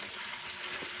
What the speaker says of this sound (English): plug in the MJ1200 and let it pull out water from the sump.